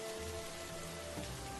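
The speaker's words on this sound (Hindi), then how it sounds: "बारिश और तेज हो गई।" Heavy rain pours down in a steady, dense broadband wash, loud and continuous throughout with no pauses or voices.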